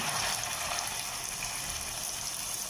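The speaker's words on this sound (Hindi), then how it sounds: "अब हम इसमें प्याज डाल देंगे।" Onions fry in hot oil in a kadhai with a dense, continuous sizzling hiss, loud and close, unbroken and with nobody speaking.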